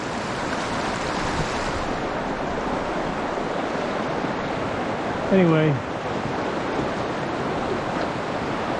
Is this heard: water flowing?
yes